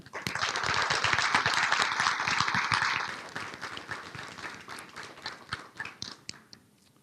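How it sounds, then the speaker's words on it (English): A burst of applause from the audience at a school board meeting that swells briefly, then thins into scattered claps and fades out. "Can we give her a nice round of applause?"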